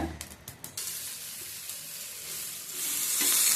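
Raw banana slices fry in hot oil with a steady, close sizzle, a few sharp crackles and stirring clatters at the start, then a dense frying hiss that swells louder toward the end.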